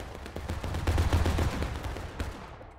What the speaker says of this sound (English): Beautiful volley.